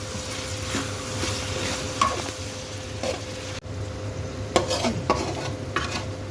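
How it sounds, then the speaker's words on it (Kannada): Tomato and onion fry on a hot tawa for tawa pulao, with a steady sizzle under repeated stirring and scraping strokes. The sound is moderately loud and nobody speaks. "ಟೊಮೊಟೊ ಮತ್ತು ಈರುಳ್ಳಿ ಎರಡು ಸಾಫ್ಟ್ ಆಗಬೇಕು"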